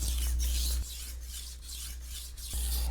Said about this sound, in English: you can make a sweeping arcing motion across the stone and then flip to the other side